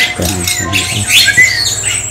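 A Bali myna chick, still young with its white feathers not yet grown in, gives several harsh, raspy squawks in quick bursts, close and fairly loud.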